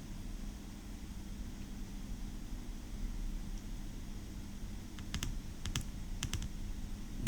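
Keys clatter steadily on a computer keyboard while entering spreadsheet data, with several sharper bursts of clicks near the end over constant background hiss.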